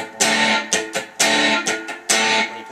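Guitar strumming the chords of a song in a down-down-up pattern, the downstrokes ringing longer and the upstrokes clipped short. The bright strums repeat steadily and close by, with no talking.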